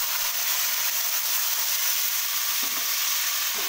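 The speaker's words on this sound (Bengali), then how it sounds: "পনির খুব লাল ভাজলে খেতে খুব একটা ভালো লাগে না, তো জাস্ট একটু এপিট ওপিট করে কিছুক্ষণ ভেজে তুলে নেব।" Paneer pieces frying in hot oil, a loud, dense, continuous sizzle from close by, with faint stirring touches and no talk.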